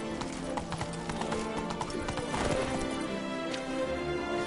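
Horse hooves galloping in The Witcher 3: Wild Hunt, rapid continuous clip-clop of a ridden horse with background game sound, steady and fairly loud throughout.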